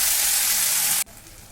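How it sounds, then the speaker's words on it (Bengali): A ginger, green chili and onion paste hits hot oil tempered with whole cumin, a dried red chili and a bay leaf, giving a loud, dense sizzle for about a second that drops sharply to a quieter simmering hiss. "ফোড়নটা হালকা ভাজা হয়ে গেলে আমি এর মধ্যে পেস্টটা দিয়ে দিচ্ছি"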